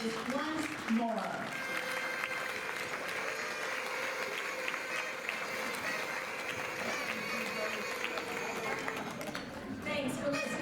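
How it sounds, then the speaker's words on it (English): An audience at an annual heritage-centre meeting applauds continuously with noisemakers, a dense, steady wash of clapping and rattling that holds for about ten seconds. "let's applaud, and we can use our noisemakers once more."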